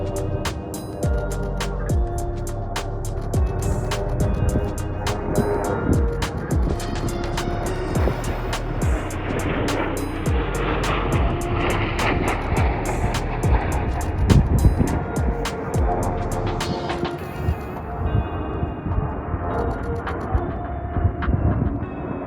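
A C-17 military transport aircraft flies through a mountain valley, producing a steady, loud broadband jet roar that holds for the whole stretch, dense and rumbling, with no talking over it.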